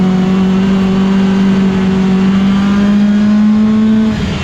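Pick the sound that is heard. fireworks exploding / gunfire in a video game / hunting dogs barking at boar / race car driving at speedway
race car driving at speedway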